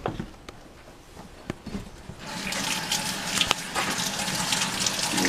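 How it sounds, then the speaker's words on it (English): Water gushing steadily from a tap while hands are washed, starting abruptly partway through after a few faint clicks and then running loud and continuous to the end. "Wash my hands."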